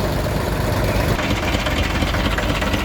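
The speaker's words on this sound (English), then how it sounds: "Here we have a huge Lister twin cylinder diesel engine, radiator cooled, driving a whopping alternator" A large Lister twin-cylinder diesel stationary engine, radiator cooled and driving an alternator, idles steadily at a show with a dense, even rumble and rapid knocking pulse, loud and continuous throughout.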